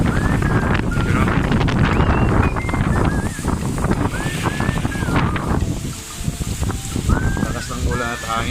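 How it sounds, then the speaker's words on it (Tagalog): Strong wind and heavy rain sweep through Doha, Qatar, a loud continuous rush with gusty buffeting close to the microphone, while honking and traffic noise sound through the storm. "First time ganito kalakas ang ulan at hangin."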